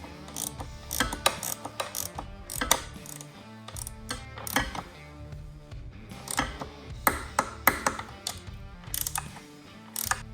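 Hex key tightening small 4mm hex bolts on a Triumph Scrambler 400 X tail tidy to about 6 Nm, giving quick ratcheting clicks in irregular bursts with metallic ticks, close and sharp, and no speech.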